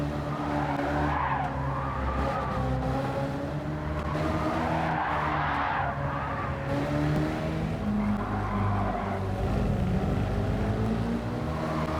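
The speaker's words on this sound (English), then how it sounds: "Then I had another big crash" Gran Turismo 7 race car in a weekly challenge, engine droning with tire skids and scraping as it slams into walls, loud and continuous throughout.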